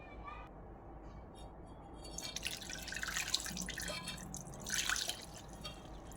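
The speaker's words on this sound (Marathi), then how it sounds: "तर हे दूध मी आता ह्याच्यात ओतून घेते." Boiled lukewarm milk is poured into a container for homemade dahi, a splashing liquid stream building over a few seconds and swelling near the end, close-up in a quiet kitchen.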